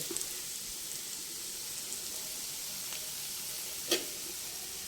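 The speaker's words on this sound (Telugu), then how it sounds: "ఈ హీట్ వల్ల ఏంటంటే మనం కట్టేసిన తర్వాత కూడా ఓ 10 నిమిషాలు అది వేగుతూ ఉంటుందన్నమాట" Cowpea pods (alasanda) sizzle in a hot pan after the stove is switched off, a soft steady frying hiss with one brief louder crackle near the end; no talking.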